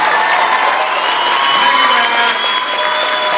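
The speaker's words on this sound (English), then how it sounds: "So big round of applause for these guys." A convention audience gives dense, sustained applause for the Being Human cast at Monster Mania, loud and even from start to finish with no voices over it.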